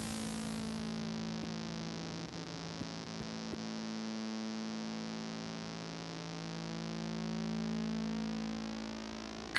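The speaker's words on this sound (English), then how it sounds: "Add some resonance to the filter." Synthesizer tone with resonance added to its filter: a steady, loud, buzzy sustained drone with a bright resonant sweep shimmering through the upper harmonics for nearly ten seconds.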